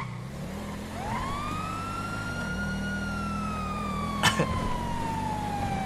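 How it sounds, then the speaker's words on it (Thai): A car-mounted siren winds up and then holds a long, loud, steady wail, with a brief sharp clatter partway through and the vehicle's engine rumbling underneath. "เอ้านี่มันรักติดไซเรนเลยนะเนี่ย"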